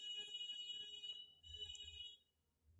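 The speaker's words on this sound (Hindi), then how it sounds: "please sorry for the horn" Car horns from vehicles passing outside sound in two faint, buzzy bursts, each about a second long, with a low rumble of traffic after the second.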